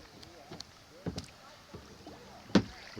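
A kayak is paddled down Antietam Creek, giving a few soft paddle strokes and splashes, one louder dip near the end, over quiet flowing water while a person talks faintly.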